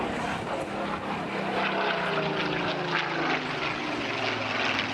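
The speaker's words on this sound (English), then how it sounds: "Then that beautiful Griffin engine." A Supermarine Spitfire PR.XIX's Rolls-Royce Griffon piston engine drones steadily and loudly throughout, a rich propeller roar with no voices.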